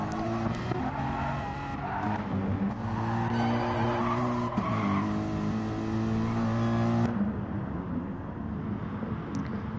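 A race car in GT Sport during an endurance race at the Nürburgring slides hard with sustained tire squeal and skidding over a loud, steady engine drone, the screech easing off near the end.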